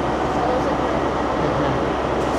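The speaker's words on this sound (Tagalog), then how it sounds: "ayun yung sinakyan natin na train" A passenger train running from Manchester to Edinburgh fills the carriage with a steady, loud, continuous rumble and hiss, with no distinct clacks.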